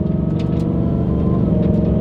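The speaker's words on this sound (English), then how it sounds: "you can actually hear the blower already" A 2024 Mustang GT engine with a supercharger blower runs steadily at close range, a constant low rumble carrying a faint high whine over it, with no talk.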